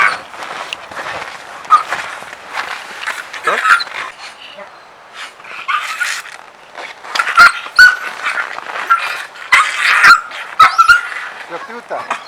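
Stray dogs being caught by dog catchers in Yakutsk, barking, yelping and whimpering in rapid, agitated bursts, loud and close, with people talking over the commotion.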